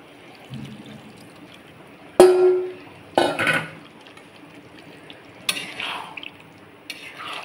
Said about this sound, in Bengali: অল্প জল দিয়ে দেবো।